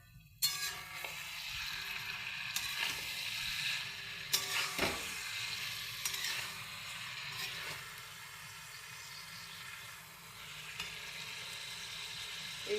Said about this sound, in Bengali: একটু খুন্তি দিয়ে নাড়ি।